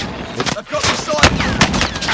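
Incendiary rounds fired in Call of Duty Warzone, loud rapid overlapping gunshots in a dense burst, mixed with game effects and a voice speaking over them.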